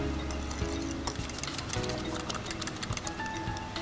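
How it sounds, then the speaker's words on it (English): A fork whisks egg omelet batter with broccoli in a bowl, making a quick run of light clinking and tapping against the bowl with no talking. "We're gonna whisk this together. At this point, I'm gonna use a fork so that the broccoli doesn't get stuck in the whisk"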